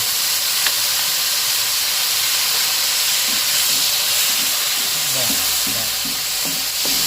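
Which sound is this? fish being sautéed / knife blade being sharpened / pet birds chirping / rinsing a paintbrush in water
fish being sautéed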